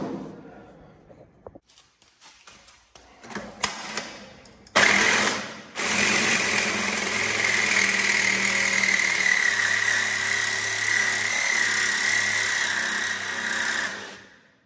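A Dremel or sawzall with a metal cutoff wheel cuts off an old trailer light, starting with scattered handling knocks before a loud, steady whining grind runs near the mic for about nine seconds and then stops.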